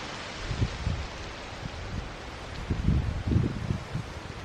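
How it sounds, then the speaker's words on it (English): Wind gusting through tree leaves on a hilltop property in a forest, soft rustling swells rising and falling in uneven bursts, with low wind rumble on the microphone. "It's getting windy up here, the top of the property."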